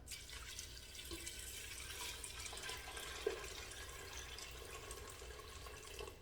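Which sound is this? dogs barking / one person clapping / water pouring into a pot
water pouring into a pot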